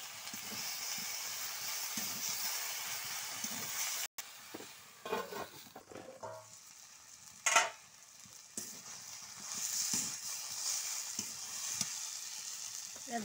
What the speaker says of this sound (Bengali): সবজি ভাজা হয়ে গেছে। এবার শাকগুলো দিয়ে দিলাম।